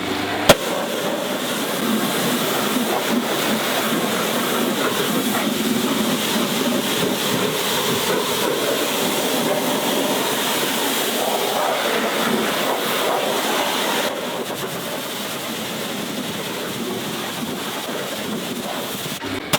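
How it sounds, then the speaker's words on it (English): Steady pressure-washer spray rinses a car wheel and wheel arch during a wheels-off detail, a loud continuous hiss of water jet with slight shifts in tone as the nozzle moves, running alone for about twenty seconds. "I then switched my attention over to the wheel and gave it an initial pressure rinse to begin with"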